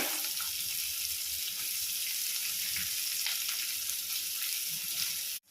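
Onions frying in hot oil with mustard seeds, fenugreek and urad dal for a Tamil kara kulambu, giving a steady, loud, close sizzle throughout with faint scraping, cutting off abruptly at the end.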